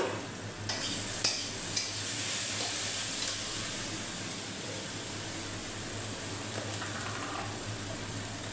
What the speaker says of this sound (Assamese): এয়া হৈছে পটল ফ্ৰাই।